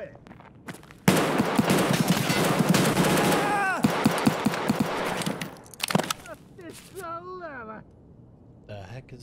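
Rapid gunfire from a gun in a video game rattles loudly for about three seconds, followed by scattered shots and effects, with voices talking over parts of it.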